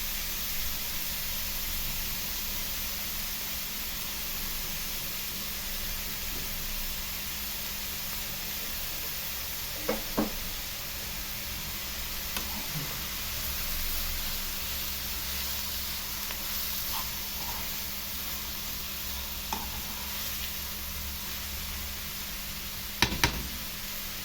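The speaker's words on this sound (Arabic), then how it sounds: "بعد ما القوانص بتاخد تشويحه معانا كده" Chicken gizzards sauté in a hot pan, giving a steady, loud, even sizzle with a few faint clicks and pops, and no talking.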